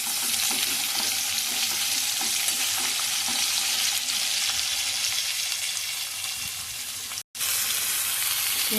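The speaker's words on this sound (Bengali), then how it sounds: "পেঁয়াজটা আমার ভাজা ভাজা হয়ে গেছে।" Onions sizzle loudly in hot oil in a pan, a dense steady crackle with occasional stirring scrapes, heard close up with no talking and one brief break near the end.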